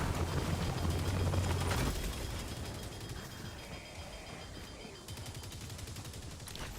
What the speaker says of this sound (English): It makes it sound like my laser cannon is like a molten lava bubbling.